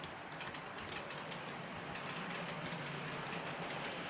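A model railway Class 66 locomotive hauling wagons runs with a continuous faint rumbling and clattering, steady and unbroken for the whole stretch, heard at low level without talk.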